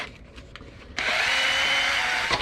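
A power drill whirs steadily into material after a brief quiet start, loud and close, drilling holes for a wing mount on an Arrma Kraton 8S RC car, ending with a slight change as the bit breaks through.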